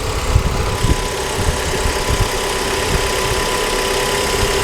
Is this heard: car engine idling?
yes